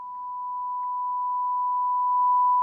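A steady pure test tone plays through the right channel of a McIntosh MC 2105 power amplifier, one unbroken beep that swells slightly in level over a couple of seconds against a quiet background.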